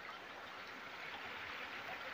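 Water flows steadily along a riverbank, a continuous broadband rush with no breaks, moderately faint and even throughout, with no talk over it.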